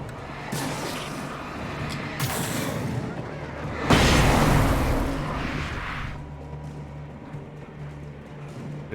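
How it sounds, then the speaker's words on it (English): A flashbang detonates in the Alan Wake video game, a loud sudden burst about midway through a rumbling, noisy game soundscape with low background hum, following earlier dull impacts. "You see, this is where you use a flashbang."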